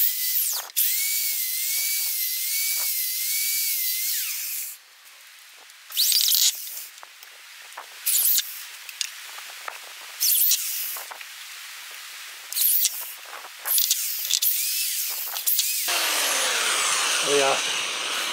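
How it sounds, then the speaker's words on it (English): A cheap cordless drill bores pilot holes in wood while building an overhead camera stand, with repeated high whining bursts of motor and bit that start and stop, alternating with quiet pauses. "So I'm going to drill these pilot holes here"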